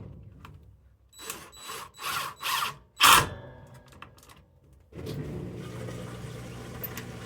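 An Amazon cordless drill drives overly long screws into shelf boards in a few close, short whirring bursts, followed by a lower steady hum.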